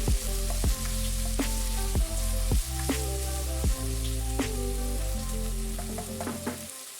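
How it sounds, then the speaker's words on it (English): Prawns fry in a hot pan for Hokkien mee, sizzling steadily and close, with a run of sharp clinks from stirring or tossing over the constant crackle. "Then it's time to introduce the prawns."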